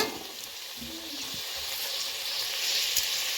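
Green chillies and tomatoes sautéing with onions in a pan for egg biryani, giving an even, close sizzle of hot oil with a faint low scrape of stirring early on.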